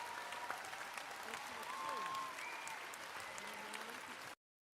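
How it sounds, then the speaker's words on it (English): An audience gives a round of applause during an online tabletop game award show, a steady wash of clapping at moderate distance lasting about four seconds before cutting to silence. "let's give a round of applause"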